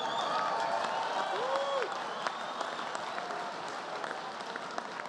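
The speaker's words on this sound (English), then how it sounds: "Give them a round of applause." Audience applause fills a large banquet hall at the White House Correspondents' Dinner, a steady dense wash of clapping with scattered cheers running throughout.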